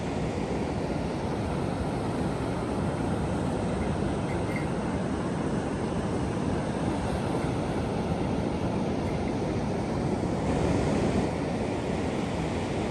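Ocean waves breaking on the beach at Cape Scott as the tide rises, a steady broadband surf roar that fills the scene continuously, with some wind rumble against the microphone and no talk.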